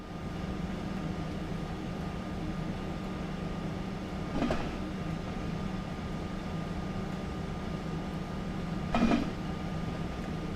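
A train in Train Sim World 5, running on a route toward Fulda, rumbles steadily with a low hum, broken by two short, louder clattering bursts a few seconds apart, without speech.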